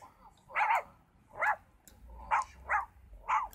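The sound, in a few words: dogs barking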